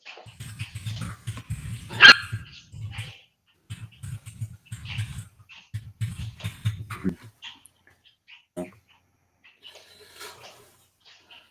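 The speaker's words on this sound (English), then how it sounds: "I guess my dog's trying to chew on my foot." A dog busy with its owner's foot gives short, loud barks and yips in bursts for the first seven seconds, then a few faint whimpers near the end.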